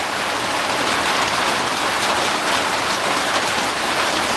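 Heavy rain pours down around a camping boat, a dense, even hiss of drops drumming on surfaces that holds steady and loud throughout with no voices.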